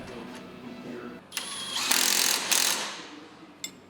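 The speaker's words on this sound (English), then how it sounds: "Reinsert the rod end back into the spindle along with the hardware and make sure you tighten it." Hand ratchet clicking as rod end hardware is tightened into the spindle of a Can-Am Maverick X during a bump steer delete kit install, a few close, bright bursts of rapid clicks with quiet pauses between.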